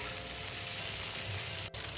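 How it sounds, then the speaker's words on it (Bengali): Kundru (ivy gourd) curry with prawns sizzling in a hot pan while being stirred, a dense steady frying hiss with a brief clink near the end. "এবার আমি এইভাবেই আরও কিছুক্ষণ নেড়ে চেড়ে রান্নাটা করে নেব।"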